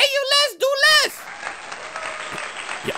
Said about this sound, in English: Y'all really gonna clap for that?